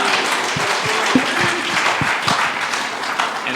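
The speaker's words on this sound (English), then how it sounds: "Y'all can clap." A conference audience bursts into steady, dense clapping to greet a panelist at a recovery-themed event, loud and close, filling the whole moment with no other sounds standing out.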